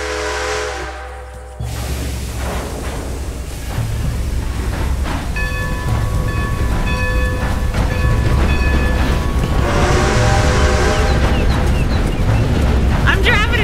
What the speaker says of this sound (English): I'm driving a choo-choo train.